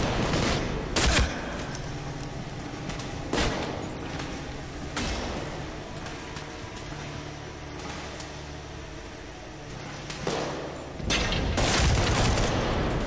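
Gunfire in the video game Medal of Honor Warfighter: loud bursts of shots and volleys cut through a steady din of combat noise, clustered at irregular intervals, with no voices over it.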